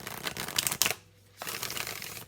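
Two bursts of brisk shuffling from a Modern Love Tarot deck, close and crisp, with a short quiet pause between them before the riffling resumes.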